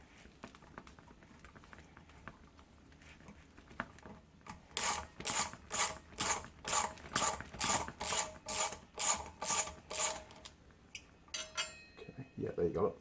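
A ratchet fitted with a 6mm Allen key socket spins out brake disc bolts on a Suzuki GSXR750, giving a rapid run of about a dozen evenly spaced, loud clicking bursts at close range, then a few scattered clicks.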